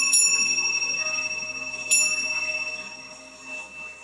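A meditation bell closes a slow-flow hatha yoga class, struck in separate, spaced strikes, each leaving a clear, bright ringing tone that slowly fades. It sounds fairly close and is heard alone in a quiet room.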